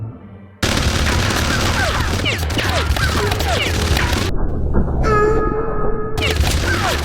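Rapid cartoon gunfire in an animated Killer Bean warehouse fight, loud sustained bursts of shots and impacts with brief shifts in tone, played at double speed.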